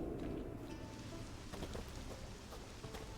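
Steady rain falls in The Witcher 3, a dense, even hiss of drops on surfaces that holds at a constant level from start to finish, with no voices.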